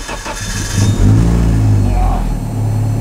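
A 540 hp rear-wheel-drive Honda Civic race car engine turns over and catches, then settles into a loud, rough, close-up idle that rumbles steadily.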